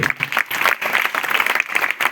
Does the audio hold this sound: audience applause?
yes